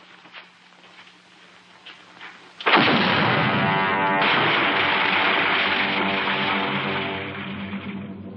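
Cartoon cannon shots blast a mountain: after a quiet stretch, a sudden heavy boom swells into a loud, sustained roaring barrage that slowly eases off.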